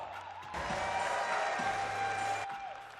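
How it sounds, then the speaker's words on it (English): Crowd applause at a basketball game, a broad wash of clapping and cheering in an arena that swells for about two seconds and then drops away. "give it up for Rocco and Taylor"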